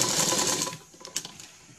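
Sewing machine stitching net fabric for an anarkali frock, a fast dense whirring chatter that runs loud and close, then slows and fades into a few separate stitches.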